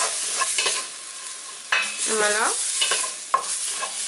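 Flour being stirred and browned in a pot for a beef bourguignon, a sizzling scrape with a few sharp utensil knocks against the pot and a brief spoken word at the end.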